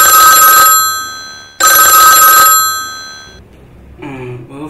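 Two loud bursts of a telephone bell ringing, each lasting under a second with a short gap between, in a domestic comedy scene; a voice speaks briefly as the ringing stops.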